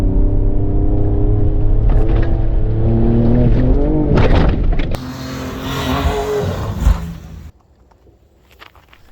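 A Ford Ranger Raptor's 3.0 V6 twin-turbo engine revs up loudly and repeatedly, the pitch rising, then roars under hard acceleration before cutting away to quiet.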